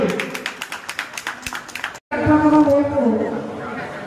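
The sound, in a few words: audience applause at a blood donation camp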